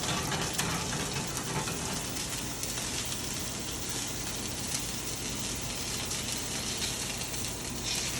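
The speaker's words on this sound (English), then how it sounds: "a nice sear there." A filet steak sears in a hot pan, giving a steady, even sizzle and crackle that runs unbroken and fairly quiet throughout, with no talking over it.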